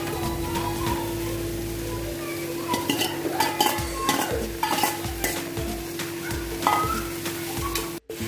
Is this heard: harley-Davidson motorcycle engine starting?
no